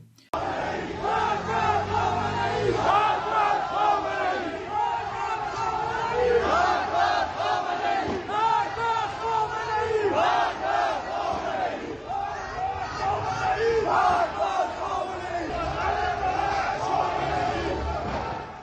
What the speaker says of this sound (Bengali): ইরানে এখনও সুপ্রিম লিডারের বিরুদ্ধে রাস্তায় স্লোগান দেওয়া হচ্ছে